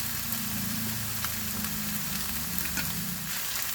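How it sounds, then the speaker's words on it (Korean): Crab sticks stir-fry with soy sauce and oyster sauce in a hot pan, giving a continuous, close sizzle with soft scraping of the stirring utensil throughout. "소스랑 재료를 전체적으로 섞어주면서"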